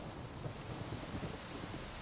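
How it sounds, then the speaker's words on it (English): Steady rain falls across the Skellige isles in The Witcher 3: Wild Hunt on Switch, a dense, even hiss with low rumbling underneath, continuous and moderately loud with no voices. "Oh, bit of rain here"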